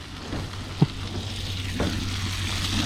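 Marron searing in a hot pan at a bush camp, a steady close sizzle throughout with a single sharp knock near the start, no talking.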